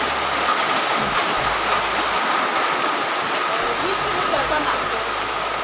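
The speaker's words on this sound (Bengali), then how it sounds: "বৃষ্টি প্রচুর পরিমাণ বৃষ্টি হইতেছে" Heavy rain pours down in a dense, continuous hiss that drowns out nearly everything, loud and close throughout.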